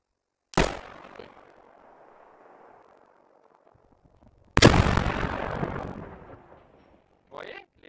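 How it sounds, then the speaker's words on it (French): Grenade explosions in a military shooter video game: a sharp blast, then a louder second detonation a few seconds later with a long rumbling decay, followed by a brief faint burst. "Je lance une grenade."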